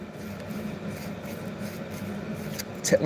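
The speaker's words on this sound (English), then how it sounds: "We're just sanding up one of our projects we got." A continuous soft rasping scrape of sandpaper rubbing back and forth on a tail piece of a Vulpix model, steady and close, with a small knock near the end.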